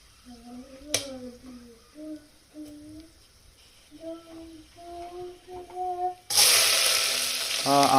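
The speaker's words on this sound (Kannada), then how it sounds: "ಇದಿಷ್ಟನ್ನು ಹಾಕ್ಕೊಂಡು ಸ್ವಲ್ಪ ಲೈಟಾಗಿ ನೀವು ಇದನ್ನು ಇದರಲ್ಲೇ ಫ್ರೈ ಮಾಡ್ಕೊಳ್ಬೇಕು" Whole spices fry lightly in oil for vegetable pulao. A few faint tonal sounds come first, then a sudden loud, steady sizzle takes over for the last couple of seconds.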